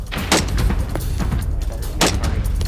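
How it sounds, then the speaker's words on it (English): Gunshots are fired from a rifle rested on a tripod, two loud sharp cracks roughly two seconds apart, with a fainter report between them over outdoor background noise. "Shooting off of a tripod like that, there were some issues with pivoting"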